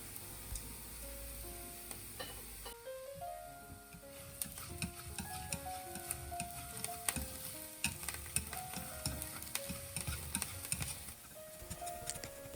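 Vegan meat substitute sautéing and toasting in a hot pan, a steady sizzle that runs the whole time, broken by frequent scraping stirs and clinks of the utensil against the pan.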